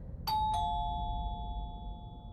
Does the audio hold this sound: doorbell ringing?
yes